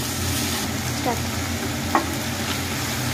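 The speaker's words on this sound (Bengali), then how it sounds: "কয়েক মিনিট ধরে নাড়িয়ে চাড়িয়ে নিলাম টমেটোটা দিয়ে।" Chopped tomato and golden-browned onion fry in a pan for prawn chachchari, a steady continuous sizzle with faint stirring scrapes and one small clink, no talking.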